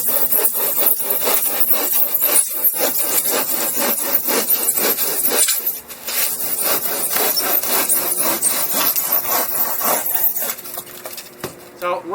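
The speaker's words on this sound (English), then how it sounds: "keep sawing as I go" Hand saw cutting through a styrofoam form, a steady run of rough rasping, rubbing strokes close up, continuous for the whole stretch with a brief dip midway.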